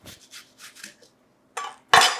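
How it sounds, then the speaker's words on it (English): Onion outer skin being peeled by hand in a home kitchen, a series of soft dry rustles and crinkles, close and quiet, followed by a short pause and two sharper, louder papery tears at the end. "Just going to peel this outer layer off."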